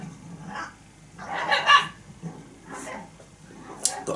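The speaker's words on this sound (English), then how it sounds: "the pup's going crazy outside the window" A puppy barking outside a window, a few sharp yips and barks in short bursts, fairly close but muffled, mixed in with someone talking indoors.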